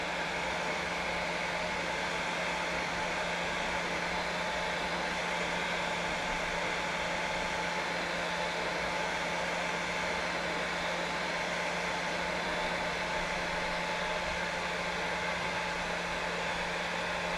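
A heat gun shrinks tubing while blue marlin lures are rigged, giving a continuous, steady blowing roar with a faint hum, close and unvarying, with no talk over it.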